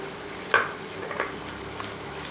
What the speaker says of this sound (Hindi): अब इसे 1 से 2 मिनट हम अच्छी तरह से भूनते हैं।